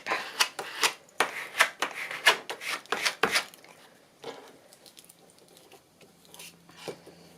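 A tool scrapes across the paper surface of a journal in a quick series of close, dry rasping strokes, followed by quieter rubbing and handling noises.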